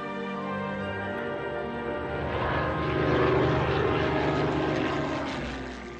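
A Spitfire's propeller engine drones steadily as the aircraft descends to land, a sustained harmonic hum that swells louder midway and then eases slightly, with no voices.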